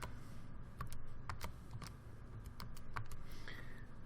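Quick, uneven key presses clicking one after another on a calculator keypad, with steady low background hum and no talking.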